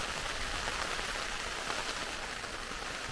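Heavy rain drums steadily on a tent during a wild camping trip in the Cambrian Mountains of Wales, a dense, even patter that stays close and unbroken, with no voices.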